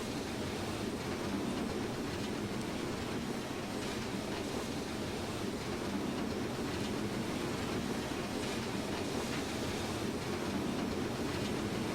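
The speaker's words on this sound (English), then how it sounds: "I can hear the safeties going off, so I know we've got maximum boiler pressure." Safety valves on a BR86 steam locomotive blow off at full boiler pressure in Train Simulator 2016, a steady loud broadband hiss roaring without a break for the whole stretch.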